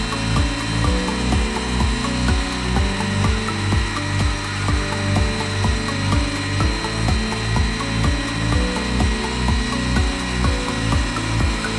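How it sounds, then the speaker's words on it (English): A high-speed resaw bandsaw in a reclaimed-wood mill cuts boards to thickness. It gives a loud, continuous rasping drone that pulses in a steady repeating rhythm, close and unbroken, with no voices. "The resaw uses a high-speed bandsaw which helps reduce waste and allows consistent cutting of"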